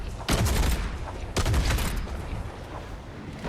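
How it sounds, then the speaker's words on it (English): Gunfire in Fortnite Chapter 5 Season 3 comes as two loud, close bursts of rapid shots about a second apart, each one trailing off into a fading rumble. "I'm getting fired at, so I take off"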